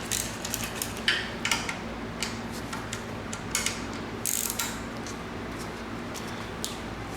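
Ratchet clicking as small bolts are loosened on a BMW M52 engine being taken apart, with repeated bursts of quick pawl clicks close up over a steady low workshop hum.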